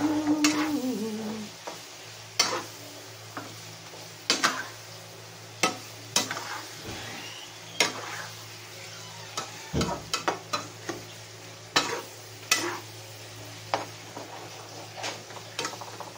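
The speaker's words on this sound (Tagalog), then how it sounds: "Ilagay na natin ang pork lalo." Pork for menudo sizzling in a hot pan, with a steady frying hiss under repeated sharp clinks and scrapes of a spatula as it is stirred, close by with no talk.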